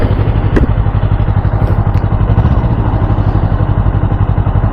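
A 2024 Yamaha R3 motorcycle engine droning steadily and loudly while riding, a constant mid-pitched hum with wind rush and no break in the sound.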